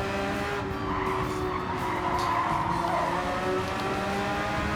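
In a racing game, car tires skid and squeal under brake lockup in a sustained, loud screech with engine noise beneath, lasting the whole few seconds.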